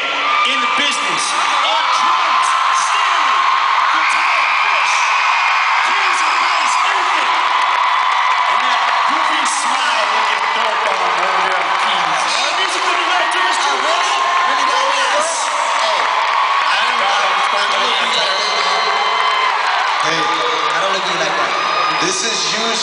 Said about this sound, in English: And scream as loud as you can for the best band in the business.